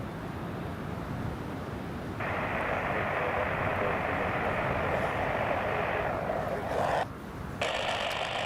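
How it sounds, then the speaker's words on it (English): A Jet2 Airbus A321 at Newcastle Airport is about to depart, its jet engines producing a loud continuous roar with a broad rushing hiss that jumps up in intensity partway through as power builds on a windy day. "We've got the Jet2 A321 that's just about to depart."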